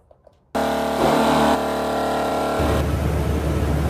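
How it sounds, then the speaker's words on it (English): A truck engine starts up and runs loudly and steadily during an air compressor test, a broad continuous rumble with a slight rise in pitch midway, close and alone with no talking. "Okay, truck is running."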